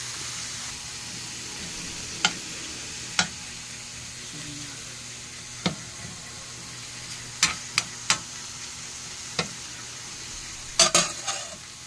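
Bitter melon (ampalaya) and egg sauté in a pan with a low, steady sizzle, broken by scattered sharp clinks and scrapes of a utensil against the pan.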